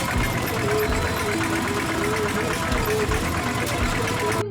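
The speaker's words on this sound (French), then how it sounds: "je suis remonté dans le seul truc qui avance là-dedans, le motoculteur. Ça pétarade, ça saute, ça gicle, mais ça passe." A two-wheel tractor engine sputters and putters close by in rural Cambodian rice fields, a dense rough mechanical chatter with steady pulsing that cuts off abruptly at the end.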